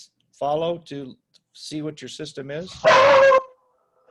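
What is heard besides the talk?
dog barking as the postman arrives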